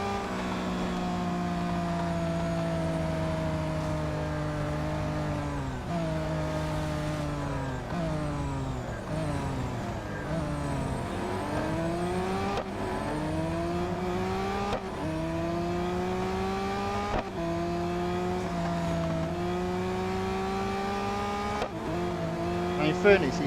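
A race car in the racing video game Real Racing 3 revs and shifts through gears continuously, engine pitch climbing and dropping repeatedly with occasional tyre squeal, loud and steady throughout.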